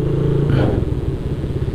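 A motorcycle ridden along a road in Batam, its engine close and loud with a rough, throbbing putter that rises briefly in a short rev, with no voices.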